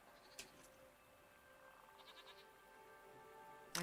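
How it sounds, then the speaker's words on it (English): A goat bleats in a video game, a short quavering cry in the middle of a quiet background hum, with a brief sharp noise at the very end. "Goat."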